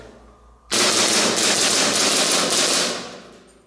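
A Cybergun Glock 17 airsoft pistol fires a rapid, continuous string of loud, close shots lasting about two seconds before trailing off, with no talking.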